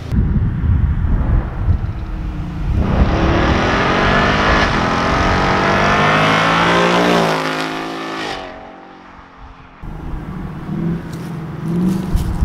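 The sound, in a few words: Ford Mustang with muffler delete revving and driving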